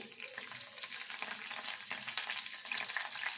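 Dried red chili and curry leaves frying in a tempering for Telangana cabbage and moong dal, a continuous crackling sizzle with occasional stirring scrapes, close and moderately quiet, no voices.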